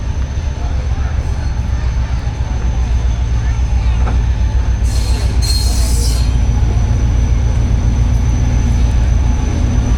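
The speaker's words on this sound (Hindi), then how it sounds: "47 अप रहमान बाबा एक्सप्रेस अप्रोच बना रही है फैसलाबाद रेलवे स्टेशन पे" The 47 Up Rehman Baba Express, hauled by an EMD locomotive, rolls into Faisalabad railway station with a loud, steady rumble and wheel noise, a brief high squeal cutting through midway while a voice talks over it.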